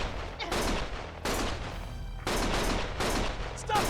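Gunfire in the action video game Lost Judgment comes in several separate loud bursts, each lasting under a second with short pauses between them, and the shots repeat in an uneven rhythm.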